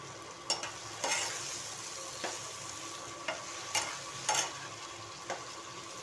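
Brinjal frying in a pan with white sesame seeds and grated coconut: a low, steady sizzle with occasional crisp scrapes and clicks of a spoon, spaced a second or so apart.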